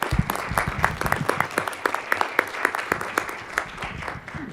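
Close, sharp clapping from an audience at a press freedom assembly session, rhythmic individual claps standing out within steady applause that keeps going throughout.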